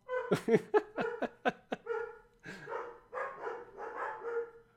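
A small poodle barks in a rapid burst of sharp, high yips close by, then lets out longer whiny, strained vocalizations, loud and alone with no talk over it.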